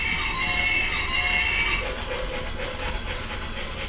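A model train runs through a snowy, lit-up Christmas village display, giving a steady hiss and a soft, rhythmic clicking of wheels on track that grows more distinct toward the end.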